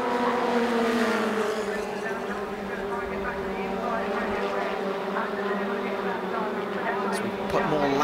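Post-'89 Formula Ford race cars at Brands Hatch in a 2016 BRSCC National championship round, their engines droning and shifting pitch as the pack runs, heard under steady commentary.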